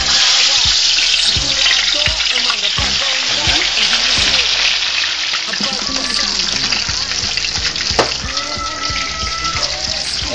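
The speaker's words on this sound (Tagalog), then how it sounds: "prito muna natin yung katawan ng tilapia." Tilapia body frying in hot oil in a home kitchen, a steady dense crackling sizzle running throughout, close and loud, with occasional pops and faint clinks of utensils.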